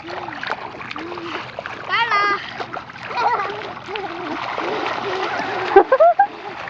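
Rainwater flooding a backyard is splashed through as a puddle, with close, choppy splashes and a voice and other talk over them.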